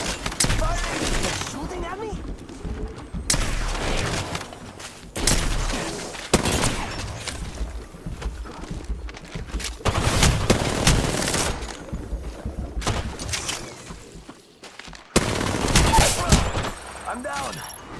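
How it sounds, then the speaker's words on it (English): Gunfire in the Free Fire battle royale game comes in repeated loud bursts of rapid shots separated by brief lulls, mixed with commentary voices talking over the action. "They're shooting at me?"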